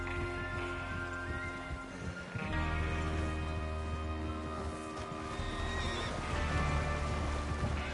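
Horses neighing and whinnying in the video game Red Dead Redemption 2, loud repeated calls over a steady background with faint hoof clops, a gang preparing to ride out.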